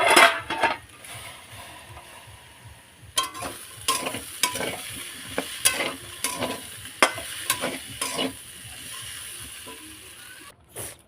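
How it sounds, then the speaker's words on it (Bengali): Katla fish curry with yam is stirred and sautéed in an uncovered pan, a soft sizzle broken by frequent irregular scrapes and clanks of a spatula against the metal, close and unaccompanied by speech. "এখানে আমি ঢাকাটা খুলে ভালো করে কষিয়ে নিচ্ছি"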